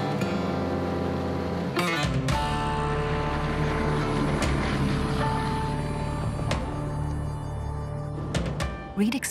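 B-17 bomber Sentimental Journey with its radial piston engines droning loudly and steadily throughout, a dense continuous roar heard close from inside the aircraft.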